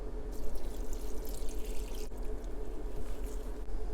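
Comfortably warm water poured over dried noodles in a container to soak them, a steady close hissing pour with light dripping and splashing throughout and no voices.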